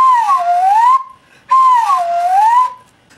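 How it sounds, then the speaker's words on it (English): Two sweeping whistle notes from a paper slide whistle, each gliding down and back up in pitch, with a short pause between them; clear, close and bright. "we're going to make and play a paper slide whistle"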